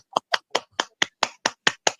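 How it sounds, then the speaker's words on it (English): Nine evenly spaced, sharp claps from a small group or single person joining a livestream, close and crisp with clear gaps between each, no talking. "Thank you for the claps."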